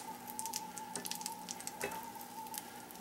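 Butter sizzling in an omelet pan as a spatula pushes it around, a quiet continuous crackle with a faint steady hum underneath and a short scrape near the end.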